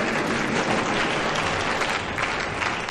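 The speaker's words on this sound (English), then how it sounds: "Give them an enormous applause." A concert audience greets the performers with loud, dense, sustained applause that stays steady throughout and carries no distinct voices.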